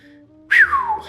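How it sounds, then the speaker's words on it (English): A person gives a single loud, close falling whistle in appreciation, a short sliding tone of under a second. "respectful whistle for that one"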